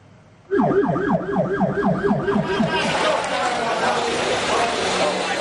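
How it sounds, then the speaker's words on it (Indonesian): Several ambulance sirens wail in overlapping up-and-down sweeps as emergency vehicles arrive one after another at a sports hall in Cipongkor, West Bandung, at night, loud and close over a busy background of crowd and traffic noise. "Senin malam, ambulans silih berganti datang ke GOR Kecamatan Cipongkor, Kabupaten Bandung Barat."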